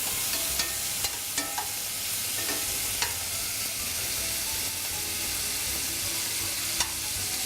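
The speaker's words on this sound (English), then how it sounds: "Fry that for about 2 minutes to just start to get a little bit of a crisp on it" Chicken pieces frying in a pan for coq au vin, a constant close sizzle punctuated by occasional sharp taps and clinks of a utensil, with no talking over it.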